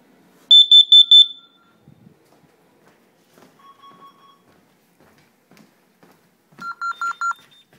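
A loud carbon monoxide alarm sounds in a rapid run of four high beeps, pauses with a faint tone and clicks, then beeps four times again at a lower pitch.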